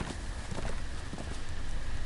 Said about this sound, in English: Horse just got nutty.